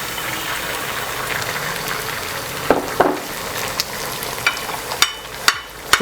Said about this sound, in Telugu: ఈ ఎగ్స్ని వేసేసుకోవాలి దీంట్లో.